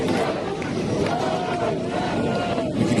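A big rugby league crowd of South Sydney Rabbitohs supporters roars and chants steadily at a 2008 NRL trial match against Cronulla-Sutherland Sharks on the Central Coast, a dense continuous wall of voices throughout.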